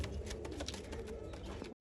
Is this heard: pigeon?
yes